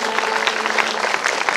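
Applause from the audience at a Shrimad Bhagawat Katha gathering in Katana ka Pura, a dense, continuous burst of many hands clapping at close range, with no voices over it.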